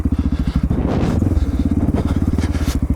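A Honda XR650L dual-sport motorcycle thumps through deep ruts in spring mud and snow, its single-cylinder engine pulsing in a rapid, loud rhythm that surges and bogs as the bike bounces through the gully.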